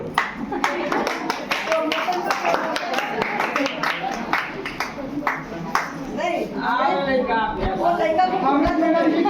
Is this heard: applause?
yes